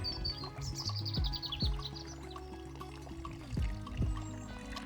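Birds chirp and sing around a garden wildlife pond in mid-spring, short bright calls repeating over a low steady background, fairly close and clear with no talking.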